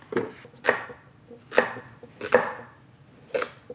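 Knife chopping a hard carrot on a cutting board during vegan pasta sauce prep, four sharp, separate chops spaced roughly a second apart, close and clear with no talk.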